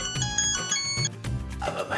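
A telephone rings with a bright electronic ringtone in a Pakistani comedy drama scene, repeating tones close and clear for about two seconds.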